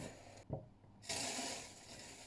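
Hot liquid poured from a jug during homemade Christmas gift making, a short splash followed after a pause by a steady, fairly loud rushing pour that continues to the end.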